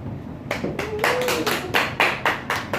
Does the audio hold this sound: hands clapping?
yes